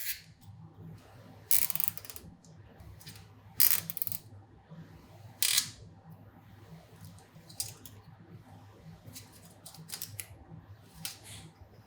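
A ratchet tightens radiator guard mounting bolts on a Kawasaki Ninja 400: quiet clicking with a few sharper metallic snaps close by, spaced irregularly over soft background noise.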